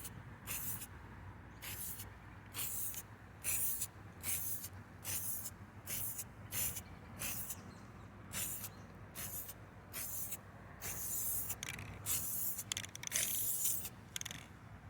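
Rust-Oleum metallic spray paint hisses from an aerosol can in a long run of short, evenly spaced bursts, close and fairly loud, applying a coat.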